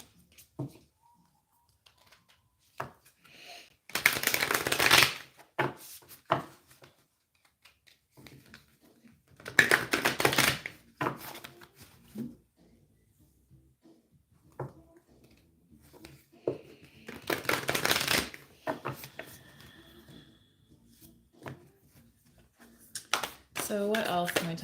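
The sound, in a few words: shuffling Moonology oracle cards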